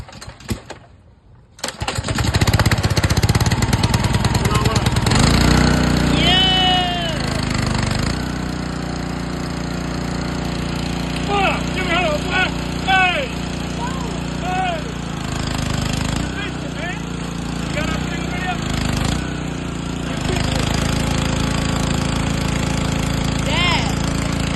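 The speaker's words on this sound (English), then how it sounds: "I got the pressure washer running" A small gasoline pressure washer engine runs steadily outdoors after being fixed, a loud continuous rumbling drone with occasional voices and faint chirps above it.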